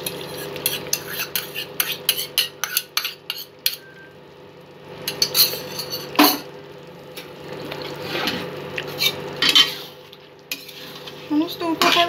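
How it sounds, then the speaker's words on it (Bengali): Yogurt and spices stirred into chicken kadai in a hot pan: bursts of spoon scraping and clinking against metal over a soft sizzle, close and fairly loud, pausing briefly before the stirring resumes. "সমস্ত উপকরণগুলো আবারও কিছুক্ষণ কষিয়ে নেব।"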